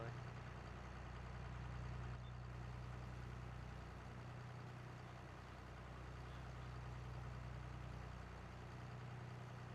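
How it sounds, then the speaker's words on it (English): A John Deere tractor engine idling in a farming video game, a steady low rumble with a constant hum that runs unchanged throughout. "That'd be our manure hauling tractor for the winter."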